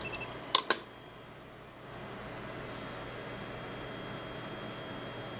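A fiber optic fusion splicer runs a splice on an SC/LC splice-on connector. Two sharp close clicks come first, followed by a steady quiet motorized hum.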